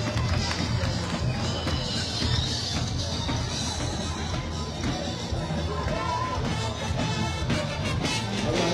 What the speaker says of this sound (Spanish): Que se escuche ese gran aplauso, por favor, para todos los participantes.